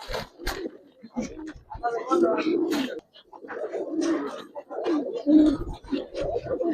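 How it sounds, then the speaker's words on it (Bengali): Giribaz and coloured fancy pigeons in Narayanganj give soft, low cooing that runs beneath a man's steady, close talk for most of the stretch. "ছোটবেলায় এরকম কবুতর ডাকাইতাম আমরা, ডাক দেখতেই ভালো লাগতো"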